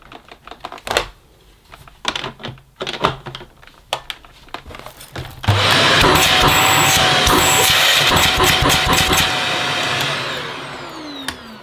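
A Shark Powered Lift Away vacuum cleaner with suction loss switches on after several sharp clicks and handling knocks, then its motor roars loudly and steadily before easing off slightly toward the end.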